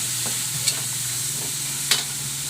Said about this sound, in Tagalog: Magigisa na ako ng bawang, pork.